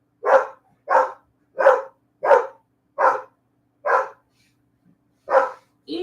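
A dog barks repeatedly at close range, eight sharp, evenly spaced barks in a steady rhythm with quiet gaps between them.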